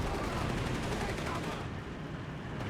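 MG-34 machine gun in Company of Heroes 3 pouring out a steady, continuous stream of rapid fire, loud and dense with no pauses, layered over battlefield din.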